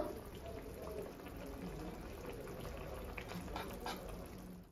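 Bengali shukto curry simmers over low gas in a covered pot, giving a faint, steady bubbling with soft pops close by and no voices.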